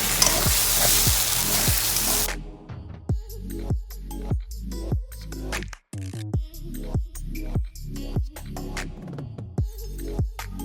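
Mutton frying in hot oil with onion, ginger and garlic masala for a biryani: a broad sizzle for the first two seconds, then repeated rhythmic scraping stirs with bursts of crackling, fairly loud and close, no talk.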